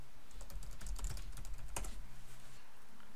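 A command typed on a computer keyboard, a quick burst of close, soft key clicks over a steady low hum, stopping after a couple of seconds.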